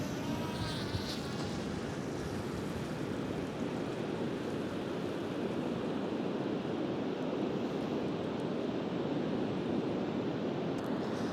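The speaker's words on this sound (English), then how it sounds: "The noise of the ocean is just insane. It's like a kind of aggressive white noise." Continuous roaring surf and gusting wind at Machir Bay on Islay make a dense, aggressive wash of noise, loud and unbroken, with no voices.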